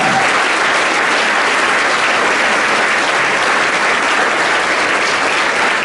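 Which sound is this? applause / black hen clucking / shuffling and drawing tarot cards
applause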